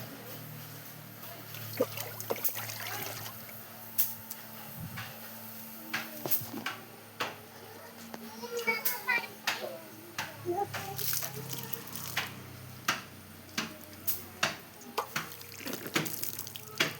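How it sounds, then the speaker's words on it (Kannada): Water splashing and trickling onto a vehicle being washed at home, with intermittent pours and drips over a steady background, while people talk nearby. "ಗಾಡಿಗೆ ಸ್ವಲ್ಪ ನೀರು ಹಾಕೋಣ ಬನ್ನಿ ಗೈಸ್."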